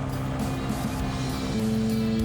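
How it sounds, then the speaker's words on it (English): Shadow microlight aircraft engine idling and running steadily on the ground before takeoff, a close droning hum with a small shift in pitch partway through. "So engine warm-up's been done and the engine's been checked, so lining up and let's get going."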